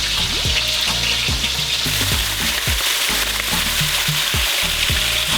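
Fish sizzling and crackling steadily in hot oil in a pan while Jamaican brown stew fish is cooked, a loud continuous fry with scattered pops and a few clinks of a utensil, no voices.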